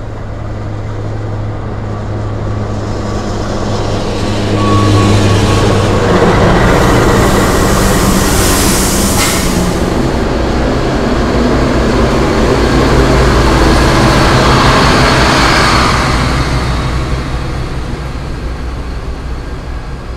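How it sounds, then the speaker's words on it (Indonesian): Baturraden Express passenger train pulling away from Tasikmalaya station, a sustained loud rumble of the carriages with wheel clatter that swells mid-way and eases toward the end, heard from on board without voices. "baru kereta api Baturaden Express akan diberangkatkan"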